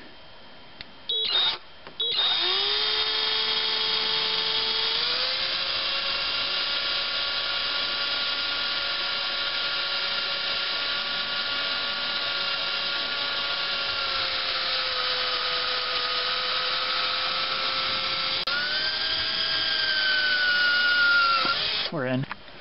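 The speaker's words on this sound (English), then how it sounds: "Okay, I have a good sharp drill bit in here. It's a small one." A small, sharp 3/32 drill bit bores into metal on a GM 2.2L engine with a steady, high, sustained whine of about twenty seconds. The pitch dips slightly under load and stops abruptly at the end.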